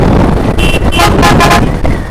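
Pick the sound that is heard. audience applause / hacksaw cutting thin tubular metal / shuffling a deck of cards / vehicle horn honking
vehicle horn honking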